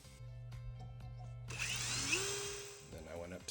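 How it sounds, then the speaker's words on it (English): A small drill bit bores a hole in a bolt, a high motor whine that spins up and rises in pitch for about a second and a half after a low steady hum, then cuts off. "I'm using a pretty small drill bit to get it started."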